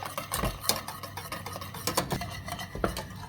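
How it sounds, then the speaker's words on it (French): A utensil stirs a thickening sauce in a pan, making quick, irregular scraping and tapping clicks against the metal. The strokes sound close and fairly quiet. "on remue jusqu'à épaississement"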